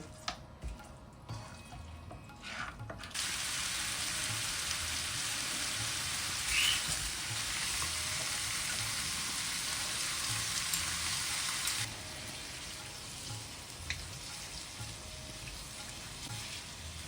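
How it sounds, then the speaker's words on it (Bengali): Meat sautéing with spices in a pan, giving a dense, even sizzle like steady rain that swells louder through the middle before easing back, heard close and alone with no voices. "আর এদিকে আমি মাংসটা কষিয়ে নিই।"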